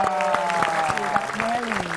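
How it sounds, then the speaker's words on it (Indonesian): Scattered applause from a small group breaks out at a coffee stall, Kedai Kopi Deli, with talk and tonal background sound running underneath the clapping throughout. "kasih tepuk tangan dong"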